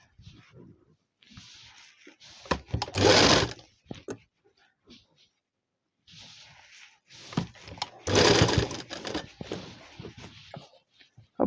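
A sewing machine stitches pleats into a salwar in two bursts, running fast and close with a rapid mechanical whir, separated by quieter handling noises and brief pauses.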